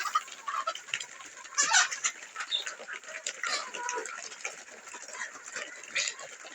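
Several native village chickens cluck and chatter close by, with irregular bursts and a brief louder squawk near the middle; no talking.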